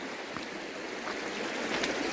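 Water flows in a stream beside a bridge, running as a steady, even hiss and rush that carries on without a break at moderate volume.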